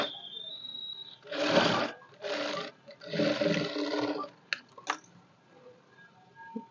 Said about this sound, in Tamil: இந்த லைனிங் கிளாத்து மேலே தான் இதில் ஒரு அமுக்கு தையல் போடணும்